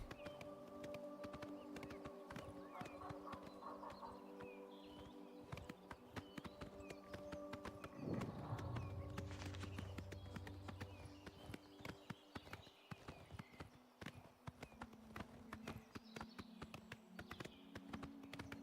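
Horse hooves clip-clop in the video game Oblivion, a steady rapid stream of sharp, moderately quiet hoofbeats with a tonal game sound swelling midway, continuing throughout.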